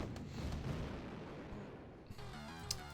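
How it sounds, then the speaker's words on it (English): Rockets blasting an armored personnel carrier in the strategy game OpenRA Tiberian Dawn, a low rumbling explosion that fades out, followed by a brief clatter, faint and distant. "Those rockets immediately popping an APC"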